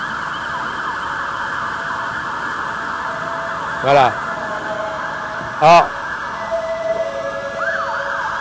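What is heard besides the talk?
fire engine sirens on a city street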